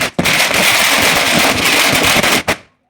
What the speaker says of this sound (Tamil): அதுக்கப்புறம் பட்டாசை வெடித்தோம்.